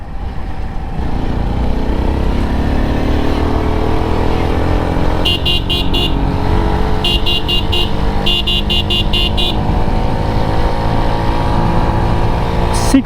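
A Runner Kite Plus motorcycle in third gear holds a loud, steady engine drone heard from the rider's position, with bursts of rapid electronic beeping partway through and a brief blip at the end.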